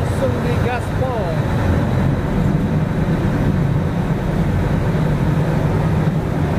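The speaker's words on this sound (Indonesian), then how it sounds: "kapal langsung digaspol." The Express Bahari fast boat leaving Karimunjawa harbour gives a steady, loud engine and hull roar at full throttle, continuous throughout, with a voice briefly heard early on.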